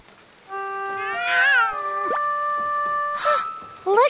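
A cartoon cat gives two drawn-out, rising-and-falling meows with a short pause between them, clear and close over light background music.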